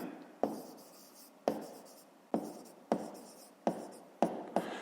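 Someone writes numbers by hand during a fifth-grade math exercise, giving a series of close, distinct pen or chalk strokes, each a sharp tap that trails into a scratchy scrape, about eight of them at an uneven pace with no voice.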